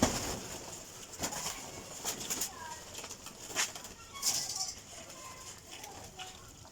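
Pigeons coo softly in a quiet setting, with several faint, repeated calls and occasional brief flutters and knocks, heard at low volume without talk.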